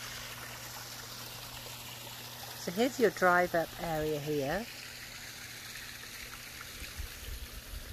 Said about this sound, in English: starting off with a beautiful waterfall